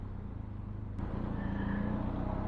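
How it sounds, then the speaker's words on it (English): Road traffic passes nearby at lunchtime, a continuous broad rumble of engines and tyres that swells slightly as a vehicle goes by, with one sharp click partway through and no voices. "quite a bit of traffic at the moment where I am"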